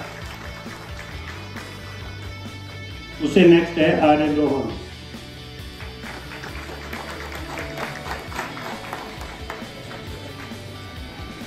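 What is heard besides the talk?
audience applauding at a result celebration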